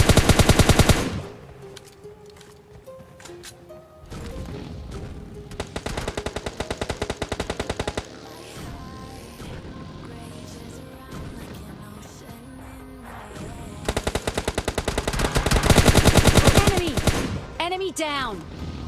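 Rapid automatic gunfire from PUBG Mobile Lite gameplay, loud bursts at the start, in the middle and near the end, with quieter scattered shots and game effects between them.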